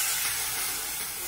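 Water poured into a hot pan of half-fried fish for a Chinese-style fish and vegetable soup, about a liter going in, bursts into a loud, steady steaming hiss and sizzle, close and continuous with no talking.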